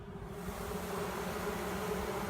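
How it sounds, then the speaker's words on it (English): Honeybee swarm buzzing at a hive during a swarm capture, a steady dense hum that holds evenly close by throughout, with no talking. "We are getting some bees in the house,"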